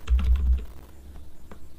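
Close-up typing on a computer keyboard while entering text into an online form: a quick burst of keystrokes at first, then scattered, quieter single clicks.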